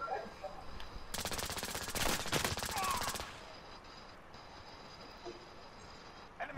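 Automatic gunfire in the shooter game Call of Duty Modern Warfare, a loud burst of rapid machine-gun shots lasting about two seconds over quiet background ambience.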